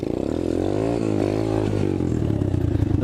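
An Apollo 125cc dirt bike engine revs close by, its pitch climbing and dropping through a few throttle blips over a steady rumbling idle.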